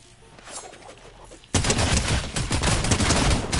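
Video game gunfire, quiet clatter at first, then an abrupt loud burst of rapid automatic shots sustained to the end.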